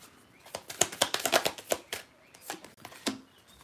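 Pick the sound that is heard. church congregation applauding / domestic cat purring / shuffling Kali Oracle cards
shuffling Kali Oracle cards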